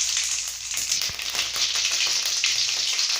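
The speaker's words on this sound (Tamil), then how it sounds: "இப்போது கடுகு போட்டுக்கோங்க." Mustard seeds crackle and sizzle in hot oil in a pan, a steady dense frying hiss with scattered pops, close and loud with no talking.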